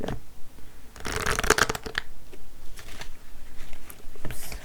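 A deck of cards is riffled and shuffled close by, with a loud flurry of crisp flutters followed by softer slides and taps, heard on its own.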